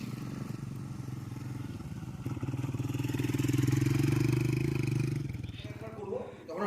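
An off-road motorcycle engine drones and rises in pitch as it accelerates, with voices talking over the riding noise.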